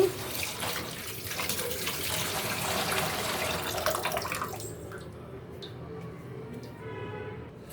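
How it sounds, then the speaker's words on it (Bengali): Small baila fish are rinsed under running water, giving a steady splashing flow for about five seconds that then thins to quieter trickling and light handling sounds. "মাছগুলো একটু ধুয়ে নিচ্ছি"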